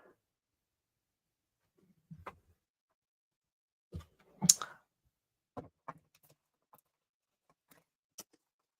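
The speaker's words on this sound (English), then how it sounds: "It's not good when the dies drop" Metal craft cutting dies clatter as they drop onto a surface, giving a few sharp, close clicks and taps in a loose cluster, then scattered lighter ticks, alone in an otherwise quiet room.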